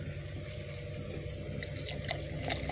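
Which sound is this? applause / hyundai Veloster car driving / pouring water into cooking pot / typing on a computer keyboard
pouring water into cooking pot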